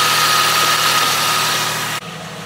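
A 1998 Jeep engine idles with a loud, steady mid-pitched drone and vibration close by, then the sound drops abruptly near the end as the engine note changes.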